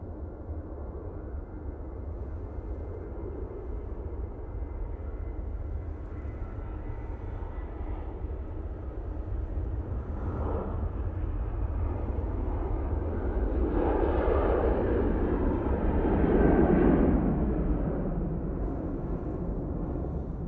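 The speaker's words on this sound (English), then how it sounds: "Tui, now on the roll." A TUI airliner rolls down the runway at Manchester Airport for a morning departure, its distant engine roar building steadily and swelling toward a peak before easing slightly, with no talk over it.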